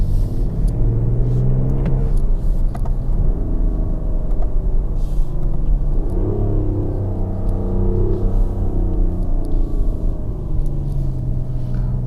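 The diesel engine of a BMW X6 M50d growls steadily from inside the cabin under acceleration, a low continuous rumble that swells as the revs climb and shifts in pitch with gear changes.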